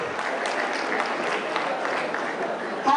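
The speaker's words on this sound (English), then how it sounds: "A round of applause." Steady crowd clapping fills an awards ceremony where students are honored for top subject scores, a sustained round of applause heard at moderate distance with no break.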